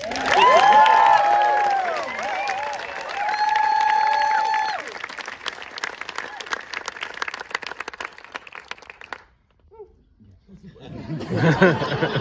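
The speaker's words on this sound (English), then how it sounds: "Give us some applause, please." Audience at a film festival Q&A cheering and whooping with applause underneath, loud at first and then thinning into scattered claps and laughter, a brief lull, then voices and cheering rising again.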